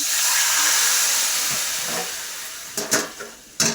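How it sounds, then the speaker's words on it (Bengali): Boiled vegetables hit a hot pan with a loud, close burst of steamy hissing sizzle that slowly fades, followed by a few short clatters and knocks near the end. "সবজিটা সিদ্ধ হয়ে যেতে এই যে নামিয়ে নিয়েছি, এই ঢেলে দিলাম।"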